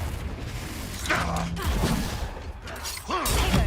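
A Confringo spell blast in the Hogwarts Legacy video game, loud fiery bursts and thuds amid combat noise, with a sharp impact near the end.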